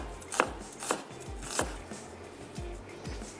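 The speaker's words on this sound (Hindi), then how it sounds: "तो ये दरमियाने साइज़ की प्याज थी जिसको हमने सिंपली स्लाइस करके" A medium-sized onion is sliced on a cutting board for biryani, with about seven distinct knife thuds at an uneven, unhurried pace, close and clear with no talk.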